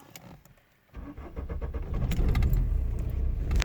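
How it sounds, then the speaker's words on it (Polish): Opel Astra 1.7 TD 68 hp diesel with a faulty crankshaft position sensor being started, keys rattling before the engine cranks and catches into a close, rough, uneven idle. "silnik chodzi właśnie w ten sposób, tak jak teraz"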